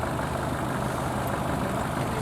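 A classic Mercedes 280 SE diesel idles steadily at a car gathering in Stuttgart, a constant low, rough engine drone at moderate distance with no talking.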